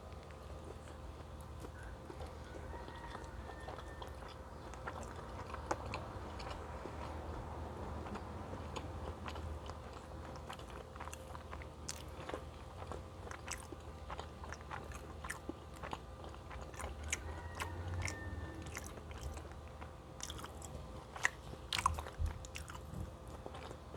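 Close, quiet chewing of a McDonald's McChicken sandwich, soft repeated bites and moist mastication with occasional crunches and a few louder clicks, no talk.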